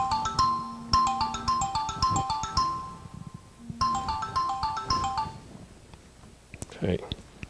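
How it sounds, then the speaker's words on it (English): Mobile phone ringtone chiming during a lecture, a bright repeating melodic pattern in two bursts, loud and close, with muffled movement and talk around it. "I've got to turn off my phone."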